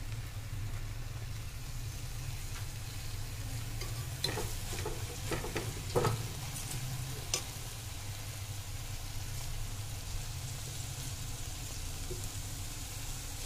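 Biryani masala frying inside a pressure cooker, with a steady sizzle and a low hum throughout, broken by several sharp scraping stirs near the middle; moderately loud, with no talk.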